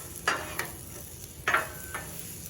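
Sliced red pepper and yellow onion are tossed on a hot Blackstone griddle, giving a soft, steady sizzle broken by a few quick spatula scrapes and clicks.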